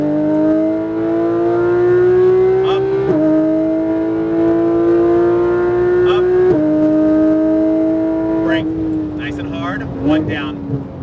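A Porsche 991 GT3 RS accelerates hard on a track, its loud engine note rising steadily with sharp shifts around three and six seconds, while an instructor talks over it throughout.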